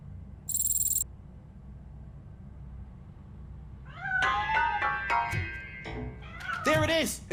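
A cat meows in the video game Robocop: Rogue City, a series of close, wavering meows and yowls after a few quiet seconds, with a brief electronic tone near the start over low background hum.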